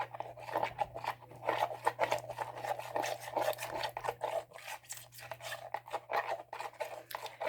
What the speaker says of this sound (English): now I'm just stirring.